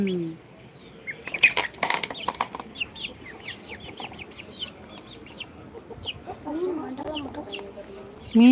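Native chickens cluck and flap their wings nearby at feeding time, with scattered calls and a burst of wingbeats, while people talk in the background.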